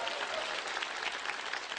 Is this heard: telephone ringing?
no